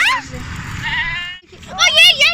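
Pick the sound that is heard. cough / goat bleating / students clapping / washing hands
goat bleating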